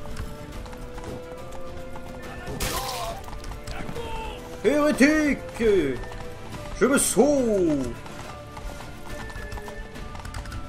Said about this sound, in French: Allez, saleté de cheval, galope!